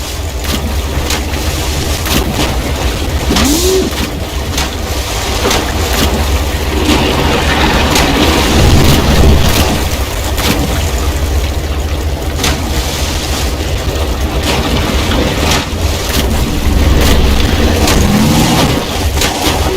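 A buggy from Half-Life 2 races along in-game at speed, its steady mid-pitched engine drone loud and continuous throughout, with brief swells and rumbles over a constant low hum and no talking.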